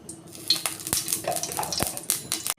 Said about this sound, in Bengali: আমি কাজু কিশমিশটা একটু ভেজে নেব।